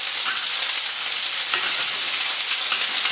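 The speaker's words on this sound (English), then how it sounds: "You can hear that nice sizzle." Clams frying in hot grapeseed oil in a pan, a loud, dense crackling sizzle with scattered pops, steady and close throughout.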